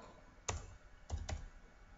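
A few quick keystrokes on a computer keyboard while typing an Elasticsearch query, one click then a close pair of clicks, faint and near in a quiet room.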